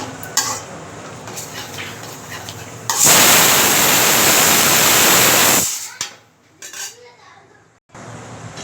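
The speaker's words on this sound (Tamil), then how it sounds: "இந்த கரண்டிலே இப்படி கிண்டி விட்டா கடைஞ்ச இது மாதிரி வந்துடும்" A metal ladle clinks and scrapes as it mashes dal in a pot, with a loud steady rushing hiss in the middle and a few more clanks afterward.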